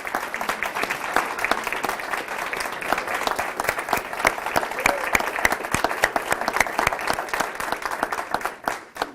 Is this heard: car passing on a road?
no